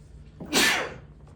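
A single sharp human sneeze bursts out abruptly and fades within half a second, close to the microphone, during a sports podcast conversation with no speech during the sneeze itself.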